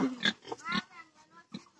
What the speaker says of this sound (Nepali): के भयो ला सुँगुर निस्के बाहिर